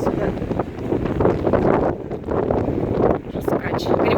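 Strong gusting wind at a seaside bay in Gelendzhik on a hot September day buffets the microphone in loud, rumbling surges that rise and ease repeatedly, with brief quieter dips between gusts.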